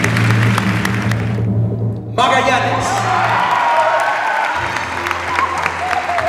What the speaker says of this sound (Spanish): les queremos dar un aplauso de felicitaciones y reconocimiento a todos ustedes